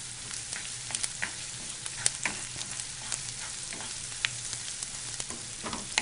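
Smoked salmon stirred in a pan with garlic and onions, giving a steady soft sizzle with scattered scraping taps of a utensil at close range and no voices.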